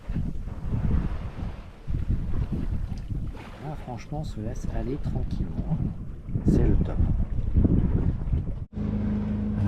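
A sailboat cruising at about four knots, with steady wind rush across the microphone and water swishing along the hull throughout, while a voice speaks briefly over it.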